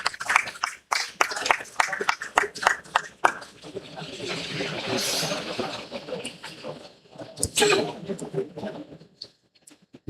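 A conference audience on a business school campus applauds to welcome a guest speaker, a broad wash of clapping swelling in the middle and fading out, with scattered voices before and after.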